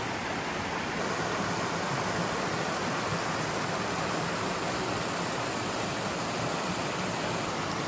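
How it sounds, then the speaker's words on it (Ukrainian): Steady rushing water flowing straight out of the ground among tall trees at Silver Springs Campground in Washington, a continuous broadband wash that stays loud and even throughout with no voices. "Ось тут біжить вода. І ось там далі біжить вода. Просто з землі."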